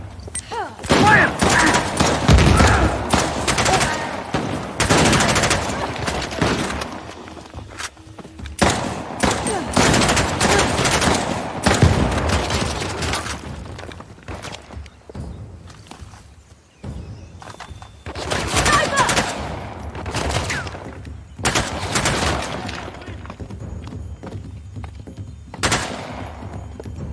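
Rapid bursts of gunfire from a Lara Croft Xbox video game crackle in repeated volleys across the scene, loud and sharp, with voices talking between and over the shots.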